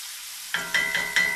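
A spoon stirs a seasoned onion sauce in a pan for Moroccan poached eggs, with a soft sizzle and four quick scraping strokes in a short, close burst.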